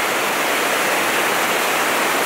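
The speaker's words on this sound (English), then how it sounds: "The creek was roaring." A roaring creek in Yellowstone National Park rushes past close by, a loud, dense, unbroken wash of churning water with no other sounds.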